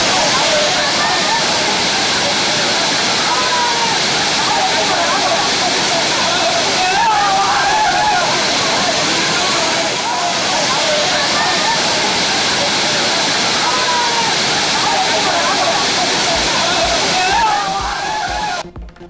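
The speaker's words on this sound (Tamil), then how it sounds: "அருவிகளில் குடும்பத்தினருடன் உற்சாகமாக குளித்து மகிழ்ச்சி." A waterfall crowded with bathing tourists on New Year's rushes in a loud, steady roar of falling and splashing water for about 19 seconds, with a voice talking over it.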